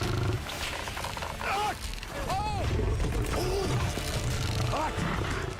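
A lion roars and growls in a wild animal setting, several deep rumbling bursts close by, with voices and mechanical noise underneath.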